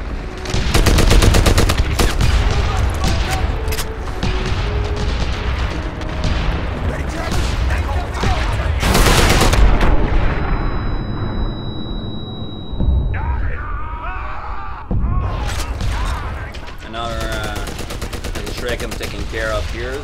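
Dense gunfire from a rifle and automatic weapons fills a Medal of Honor battle. Rapid volleys and heavy booms go on almost without a break, with short lulls and some voices mixed in.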